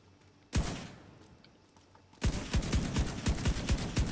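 Rapid MP5 submachine gun fire in a video game: a single sharp shot, a pause, then a quick burst of evenly spaced loud reports, close and dry, with no talk.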